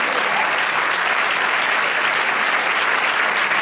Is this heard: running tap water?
no